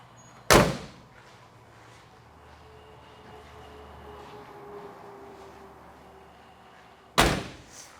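Two loud, sharp door slams on a 1961 Ford Econoline van, one early and one near the end, with quiet background noise between them.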